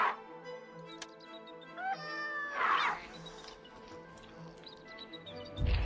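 A cat meows in the video game Lost Grimoires, with a few clear, close meows and a drawn-out wail set against a quiet market scene with soft background tones.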